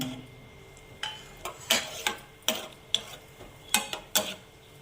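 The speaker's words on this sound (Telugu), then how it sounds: "మనం కాజు వేడి చేసుకుందాం, ఫ్రై చేసుకుందామండి" Cashews frying in hot ghee, a soft sizzle under a regular series of sharp spoon-against-pan clinks and scrapes, close and fairly quiet, with no talking.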